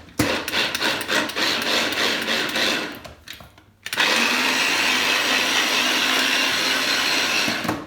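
An electric food chopper whirs loudly and steadily as it minces coriander. A rougher, clattering stretch comes first, then a brief dip before the motor settles into a continuous high whine that lasts to the end.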